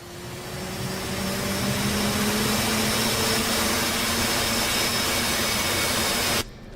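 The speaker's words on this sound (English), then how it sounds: "I think we motored the left engine long enough." A steady, loud roar and whine from an F/A-18C jet engine in the DCS flight simulator, running continuously with a faint rising tone before it cuts off abruptly near the end.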